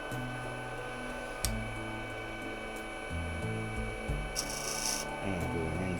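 A rounded-out chisel cuts into wood spinning on a lathe while turning an herb stripper, giving a faint, steady scraping hiss over a low motor hum, with brief shifts in tone as the tool moves.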